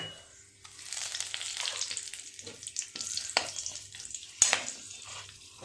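Whole spices, a dried chilli and a bay leaf dropped into hot oil crackle and sizzle close up, with sharp pops and a few bursts of spattering. There is no talking.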